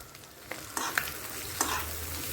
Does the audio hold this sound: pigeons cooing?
no